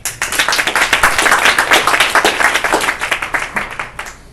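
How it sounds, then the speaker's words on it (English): A crowd applauds a startup co-founder at a Techstars 2021 kickoff event in Taiwan, with dense, loud, sustained clapping that tapers off toward the end. "give a round of applause for Reza"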